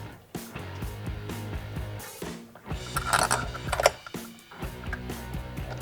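A hand ratchet clicks in quick runs as new 60 mm bolts are started and snugged on a throttle body spacer of a Jeep Liberty, the close, rhythmic clatter broken by short pauses.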